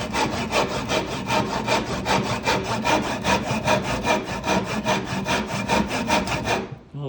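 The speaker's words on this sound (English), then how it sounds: "hand sawing." A handsaw cuts through wood for a chair in steady back-and-forth strokes, each rasping pass loud and close, the rhythm continuing evenly for several seconds before stopping abruptly at the end.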